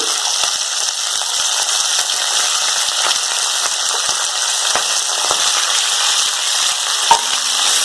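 Broad, dense sizzle of ghevda beans with coriander frying in oil, steady and close, with occasional light clicks of stirring and one sharper knock near the end; no one speaks.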